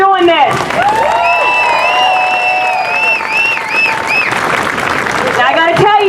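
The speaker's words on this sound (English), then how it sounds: "Give yourselves an applause." A crowd at an outdoor immigration protest rally at a city plaza applauds and cheers, with sustained clapping, loud whoops and shouts close by, and a voice speaking over the noise.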